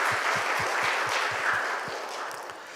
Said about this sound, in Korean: 우리 박수 한번 드릴게요